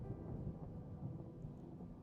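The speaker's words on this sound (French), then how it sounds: "Un coup de tonnerre gronda si fort qu'il fit trembler la rambarde en bois sous ses mains." Low, steady thunder rumbles continuously through a stormy scene, deep and distant with a faint rain hiss, quiet and unbroken with no voices.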